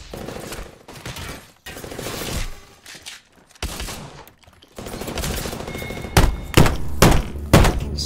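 Bursts of gunfire in Apex Legends, loud rapid automatic volleys broken by short pauses, then heavier spaced thumping shots near the end, with no talk over them.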